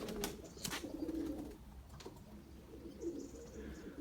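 Overlapping low coos from young pigeons newly learning to fly fill a loft, with scattered wing flaps and knocks early on and faint chirps later, near and steady.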